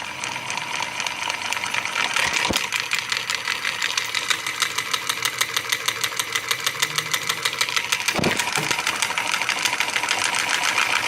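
A magnet rotor with eight magnets spins fast under a three-phase AC field, giving a loud, steady mechanical whir with rapid regular pulsing, broken by two brief sharp clicks.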